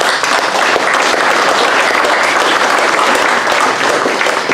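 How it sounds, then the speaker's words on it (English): A dense, steady round of applause from an outdoor festival audience at opening speeches, loud and even throughout with no voice over it. "So give them a round of applause."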